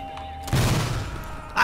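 An explosion in the video game Sniper Elite 4 bursts as a loud low boom that rumbles on for about a second, followed by another sharp blast at the end.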